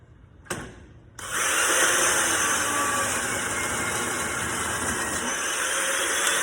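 A Makita chain mortiser cuts a rail mortise into a wooden fence post, starting with a short burst and then a loud, steady, close-up whine and grind that runs without a break.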